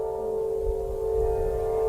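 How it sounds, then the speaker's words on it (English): An Aeolian wind harp sounds at Stonehenge on a summer solstice as wind moves through its strings, holding a steady sustained tone over low gusty rumble, brief and moderately quiet. "Just the natural sounds of the wind through the strings."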